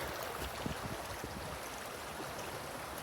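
A creek running high after rain, a steady close rushing and gurgling of water that continues evenly throughout, with no voices.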